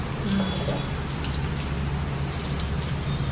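Mustard seeds crackle and pop in hot ghee as a tempering for sambar, making a dense, patter-like spray of small pops under a low steady background.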